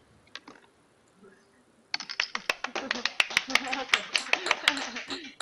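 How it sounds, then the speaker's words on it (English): Scattered clapping at a university round table, starting after a brief quiet pause as a run of sharp, uneven claps that builds slightly and rings close and clear. "you can hear the applause"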